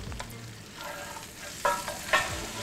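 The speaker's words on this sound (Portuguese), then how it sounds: "E agora eu vou adicionar o tomate" Tomato added to a pan of caramelized onions while roast beef cooks, giving a soft steady sizzle with a few stirring scrapes and brief bursts of frying, close by with no talking.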